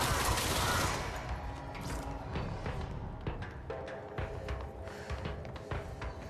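Gunfire in the video game Control, a dense sustained burst of shots blended with mechanical clatter and rattling, loud and continuous throughout with no talk.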